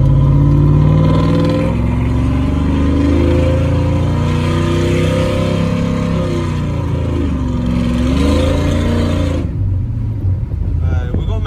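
A cammed 5.3 V8 truck engine with a new exhaust revs loudly and steadily in a deep, rumbling drone, with pitch rising and falling, before cutting off near the end.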